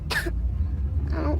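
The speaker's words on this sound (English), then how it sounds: "What about my cough?" Two short, raspy coughs from a sick child, one burst near the start and a rougher one at the end, close and clear against a quiet low background.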